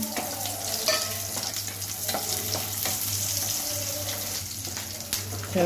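Coriander seeds, cumin, peanuts and cucumber pieces frying in a pan, a continuous crackling sizzle with repeated stirring scrapes and clinks throughout, close and fairly loud.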